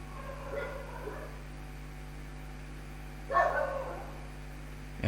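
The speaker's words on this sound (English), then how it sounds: "And the dogs bark." Dogs bark outdoors at a distance, a short burst of yapping standing out from a steady low electrical hum, with quieter indistinct barking earlier in the stretch.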